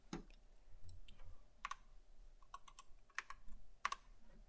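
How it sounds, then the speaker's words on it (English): Scattered keystrokes clack on a computer keyboard, irregular and fairly close, with quiet pauses between bursts of typing. "to waste a bunch of time typing poorly"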